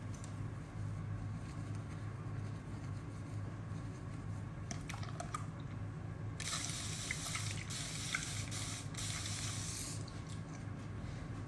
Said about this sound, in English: let's wet it a little more.